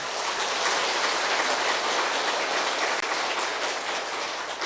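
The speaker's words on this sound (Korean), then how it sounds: "여러분 성령께 박수 치세요." Congregation at a Catholic parish seminar applauds steadily in a hall, a dense, even wash of many hands clapping at moderate loudness for several seconds, rain-like in texture.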